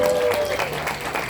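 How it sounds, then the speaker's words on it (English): An audience at a stand-up comedy show, Raymond the Amish Comic's performance, claps in a brief, dense burst of applause that fills the room. "I need applause because I can't see."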